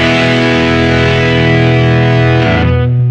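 Electric guitar through a Boss GP-10 hex fuzz distortion patch with reverb added, a loud thick sustained distorted chord held throughout, changing near the end as a new chord is struck.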